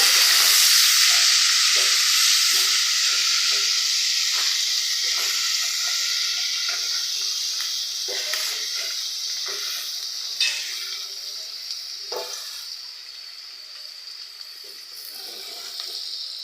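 Chopped onions frying in hot oil until light brown for a prawn malaikari: loud, steady sizzling that slowly eases, with occasional stirring clatter and no voices over it.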